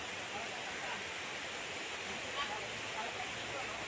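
A river flowing beside a farm lot in Liliw, Laguna, a steady, faint broadband rush of moving water with no distinct splashes.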